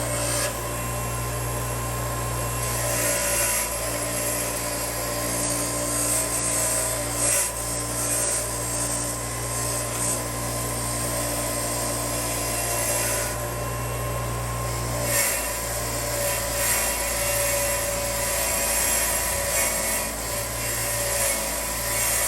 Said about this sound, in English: I'm going to wire wheel, clean this off.